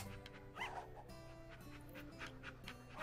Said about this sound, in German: Der ist süß, der Hund, ne?